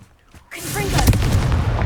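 A Confringo fire blast spell from the Hogwarts Legacy video game erupts as a sudden loud burst that keeps roaring with crackling energy after a brief quiet lead-in, close and dense.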